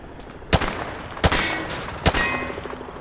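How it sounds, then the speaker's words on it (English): Three separate rifle shots at range targets in Modern Warfare 2 Remastered, evenly spaced and sharp, each ringing briefly against a quiet indoor background with no talk. "He sprayed bullets all over the damn place."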